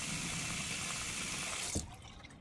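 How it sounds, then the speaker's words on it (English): Water pours steadily into a container, a broad continuous rush that cuts off with a soft knock near the end, leaving quieter dripping and room tone. "I take the water and I fill it up again."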